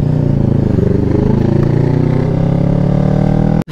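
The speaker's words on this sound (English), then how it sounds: "I'm gonna rev match my bike, especially if we're riding very aggressive" CFMoto NK400 motorcycle engine revving during a rev-matched downshift, with a loud, close, continuous engine note that rises and falls in pitch, then cuts off abruptly at the end.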